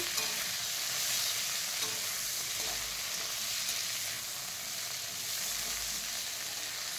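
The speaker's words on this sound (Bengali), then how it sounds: "সজনে ডাঁটাগুলোকে হালকা তেলে একটু নাড়ি চাড়িয়ে নেব।" Moringa drumsticks stir-fried in a little oil left from frying fish produce an even, close sizzle with faint spatters and gentle low rumbles of stirring, uninterrupted and without speech.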